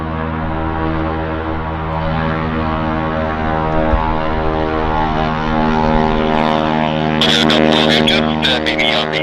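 An airliner on the runway at Vancouver airport gives a loud, steady engine drone with strong tonal whine, close and continuous, with a rougher burst of noise near the end.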